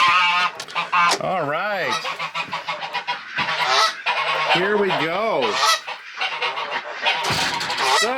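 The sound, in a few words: farm birds honking in shelter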